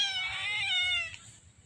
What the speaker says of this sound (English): He's now meowing.